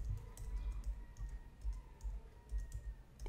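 Typing on a computer keyboard at a desk, with faint irregular key clicks scattered throughout under a low background hum, quiet and close.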